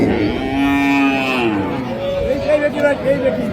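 Cattle at a cattle market moo loudly and close by, with one long low moo followed by shorter calls, while people talk in the background.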